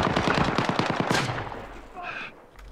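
Rapid automatic gunfire in the video game Call of Duty Warzone, a dense burst of close, loud shots for about a second followed by scattered quieter bangs and game sounds.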